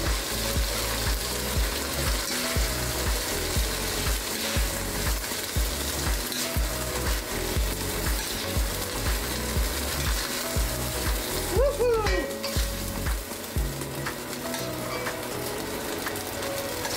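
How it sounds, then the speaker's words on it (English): Steady, loud sizzling of meat frying in a pan, with occasional scraping and stirring noises partway through. "we've got sizzling."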